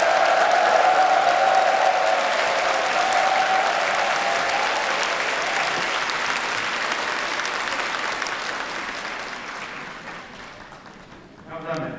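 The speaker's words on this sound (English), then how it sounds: "Let us rise and give him a loud applause" A large crowd rises and applauds steadily and loudly at a commemoration ceremony, the clapping sustained for several seconds before tapering off near the end.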